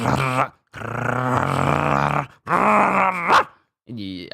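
A human voice imitates a small dog growling, giving a few drawn-out, throaty grr sounds separated by short pauses, close and fairly loud.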